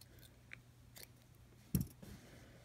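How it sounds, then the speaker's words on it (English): Scissors cut crochet yarn with one short snip in a quiet room, preceded by a few faint clicks. "So you want to go ahead and cut your yarn"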